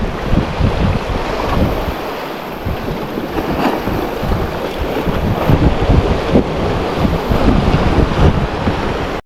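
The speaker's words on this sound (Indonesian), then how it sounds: "Ini angin terlalu luar biasa kencangnya teman-teman." Strong wind roars steadily across the microphone over open sea off Pulau Nasi, Aceh Besar, with a continuous broadband rush and buffeting gusts, no voices.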